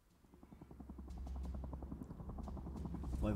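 Helicopter in the Henry Stickman Collection video game, a steady low rotor drone with rhythmic chopping pulses that grows gradually louder throughout.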